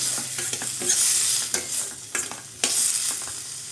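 Finely chopped onions and tomatoes sizzle in a pan, a steady close hiss punctuated by repeated spatula scrapes and taps as they are stirred, with no voices.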